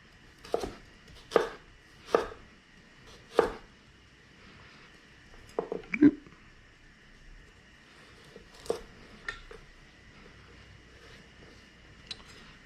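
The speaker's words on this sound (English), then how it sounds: "Cut one side to make a flat surface, cut it into planks, and then cut the planks into julienne" A knife chops carrot, onion and cabbage into julienne on a cutting board, with several sharp separate knocks spaced irregularly, some close together, then fainter cuts trailing off in a quiet kitchen.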